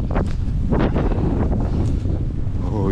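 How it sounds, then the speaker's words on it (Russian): Strong wind on a beach at Yeysk buffets the microphone in steady, heavy gusts, a loud low roar with rustling on top and no speech. "Да, ветерок ядреный."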